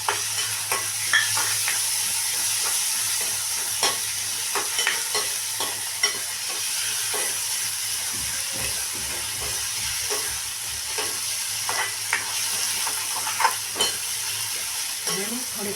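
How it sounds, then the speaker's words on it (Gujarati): Tomatoes fry in a pan with oil and are stirred, giving a steady close sizzle broken by repeated scraping and clinking strokes of the spoon throughout. "હવે આપણે ટમેટા ઉમેરી દઈએ એની અંદર."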